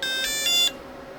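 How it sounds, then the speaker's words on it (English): A TurboAnt X7 electric scooter powers on: a few short electronic beeps sound close by, followed by a longer sustained tone, then quiet. "It will make a beep sound."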